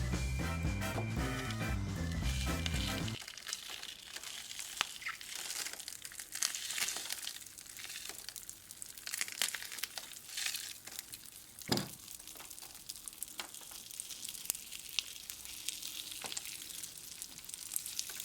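Pop Rocks candy crackles in homemade slime, a dense fizzy popping and crinkling texture with scattered louder snaps, heard close and alone after a short burst of music.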